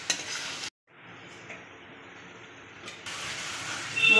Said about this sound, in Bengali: মাছ তো একটু হালকা হাতে নাড়তে হবে মশলার সঙ্গে।